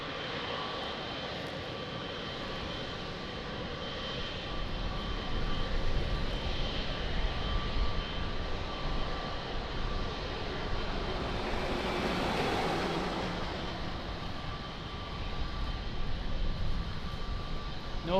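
A Boeing 777 jet engine at Lisbon Airport: a broad, steady roar that swells into a louder rushing pass midway and then settles back, heard alone with no talking.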